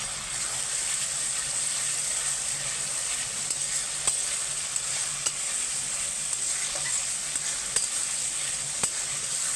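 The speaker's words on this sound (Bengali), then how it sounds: "একটু ভালো করে নাড়া দিতে হবে, তাহলেই পেঁয়াজগুলো গলে যাবে।" Onions and spice masala stirred and frying in a pan for a home-style chicken curry, with a steady close sizzle and occasional scrapes of the spoon across the pan, alone without talk.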